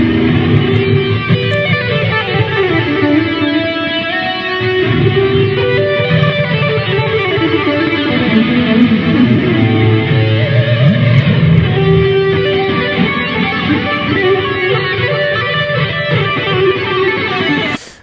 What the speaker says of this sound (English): what you're hearing here is obviously it's that guitar. It's the white Ibanez Gem Steve Vai model.